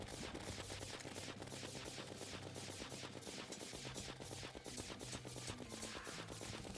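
Rapid Terraria gunfire with Chlorophyte bullets rattles off in fast, continuous bursts, a dense stream of sharp shots with a low tone droning underneath.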